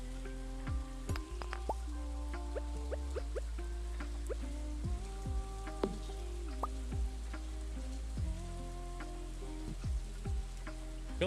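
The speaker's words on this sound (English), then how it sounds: "I feel like the rain's a little loud." Rain in the video game Stardew Valley, a steady patter of drops under a soft, mellow music bed with scattered clicks, continuous and fairly loud.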